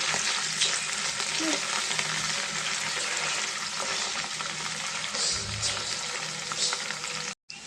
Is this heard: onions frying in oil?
yes